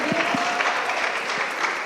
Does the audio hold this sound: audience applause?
yes